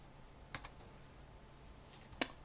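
A computer keyboard typing a Linux command on the command line: a few quiet separate key clicks, one pair early and another single click near the end, in a still room.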